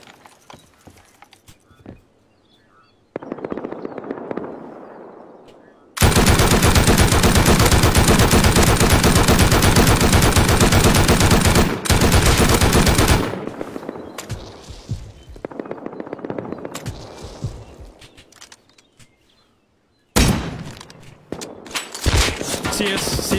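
Gunfire in a shooting video game: a long, loud, continuous automatic burst dominates the middle, with shorter bursts before and after and brief talk between.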